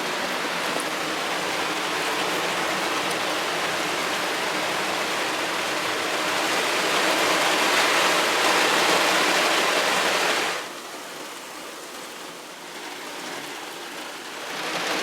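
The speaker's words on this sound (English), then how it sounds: "The rain has not let up. It is just rain." Heavy rain pours steadily on woods in north Florida during a hunt, a dense continuous hiss that eases slightly toward the end.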